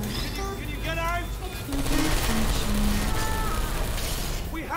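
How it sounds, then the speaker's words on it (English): Rapid bursts of gunfire crackle over a dense, noisy Portal 2 game soundscape, loud and continuous, with a voice briefly audible beneath. "I heard gunfire."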